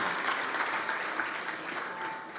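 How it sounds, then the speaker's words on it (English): Steady applause from a sizeable crowd at a dentists' summit, dense and continuous at a moderate level, with no voices standing out. "let's give Amber Franson another big round of applause"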